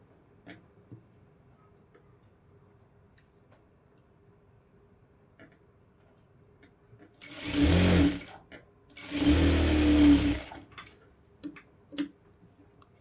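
A sewing machine stitching a blouse back piece runs in two short bursts of about a second each, loud and close against a quiet room with a few faint clicks between them.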